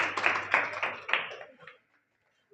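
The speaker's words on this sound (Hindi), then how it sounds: "तालियां बजा दीजिए भाई" An audience claps for a school and coaching topper being honoured at a ceremony, a brief burst of hand claps that quickly thins out and fades to silence after about a second and a half.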